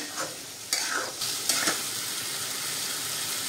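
Mutton rakti mixture sizzles in a hot pan while a spoon stirs it in a few quick scraping strokes, leaving a steady frying hiss heard up close with no voices.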